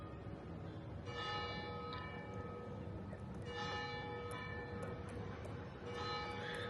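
A church bell in Benidorm tolls at ten in the morning. A few slow, ringing strikes come at intervals of about two and a half seconds, each one humming as it fades over a steady background wash.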